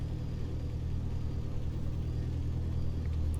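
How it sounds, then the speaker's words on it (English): Cessna 152 piston engine at low throttle, around 1000 RPM, idling on the ground in Flight Simulator 2020, a steady loud low drone with a slight wavering pulse that runs the whole time, with no voice over it. "another thing I like about this aircraft is the wavering of the engine"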